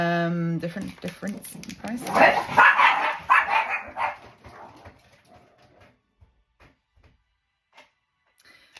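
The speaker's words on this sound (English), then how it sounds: "Sorry if you can hear the dogs barking in the garden." Dogs bark in a garden in a burst of yips and barks under a person talking nearby, then fade to quiet with a few faint clicks.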